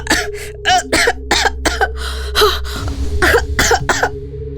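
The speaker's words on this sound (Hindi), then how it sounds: "जोर जोर से खांसने लगी" A woman coughs hard and repeatedly on acrid smoke from a fire ritual filling a room, a string of loud, close barking coughs with short throat-clearing catches, over a low steady drone.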